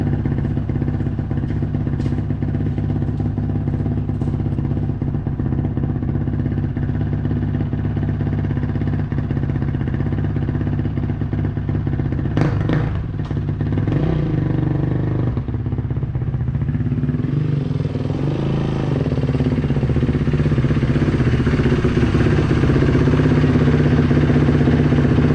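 A 450 dirt bike idles while warming up, its engine putting out a steady, loud, close thrum with a few brief clattery blips partway through and a slightly rising, rougher tone toward the end; no voices.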